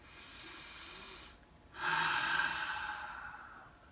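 A single deep breath, a soft drawn-in inhale followed after a brief pause by a longer, louder breathy exhale, close and alone.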